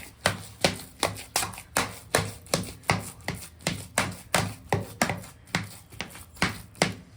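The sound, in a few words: stirring ragi dough for ragi sangati in a pot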